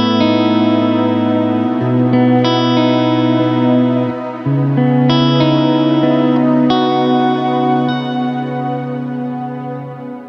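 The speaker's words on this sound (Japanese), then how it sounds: "クラウドバーストはストライモン特有のサウンド設計で、まあお聞きの通り、とても自然で美しいリバーブサウンドを作り出します" A Strymon Cloudburst reverb pedal turns sustained guitar chords into a lush, shimmering wash, loud and close, with notes blooming and ringing on in long reverberant tails.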